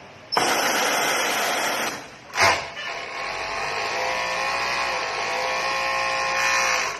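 A Jack C4 industrial sewing machine runs under foot-pedal control in normal mode, its close, steady high-pitched whir broken by a short pause and burst, then continuing evenly at a constant speed.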